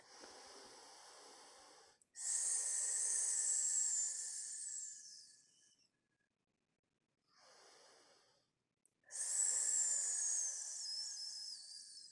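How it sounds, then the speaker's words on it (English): Two long, deep exhales from a breathing exercise, each a close, breathy hiss lasting a few seconds, separated by a short, softer breath and near silence. "Three more exhales."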